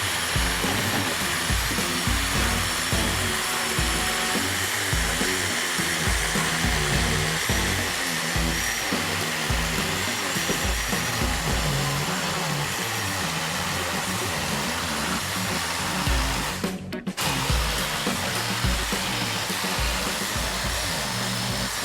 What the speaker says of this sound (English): Take your time with the jigsaw and go slow.